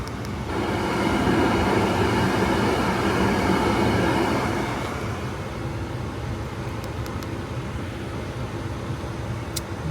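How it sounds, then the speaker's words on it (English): A loud, steady whooshing roar of car heaters blowing fills the cabin on a cold day, easing slightly in intensity after a few seconds and continuing alone. "Hopefully that noise isn't too loud and you can hear me over the heaters."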